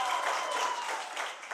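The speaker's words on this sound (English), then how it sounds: "A round of applause for Tylin." An audience at a high school poetry slam competition applauds a contestant, a brief, steady wash of clapping from a crowd, fairly close and even throughout.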